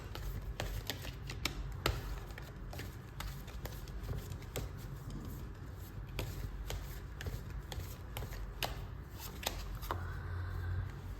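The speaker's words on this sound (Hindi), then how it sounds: "कार्ड निकाल कर देखते हैं क्या बोल रहे हैं।" Tarot cards being shuffled and drawn during a reading: a steady run of soft, close flicks and riffles with sharper snaps here and there over low background noise.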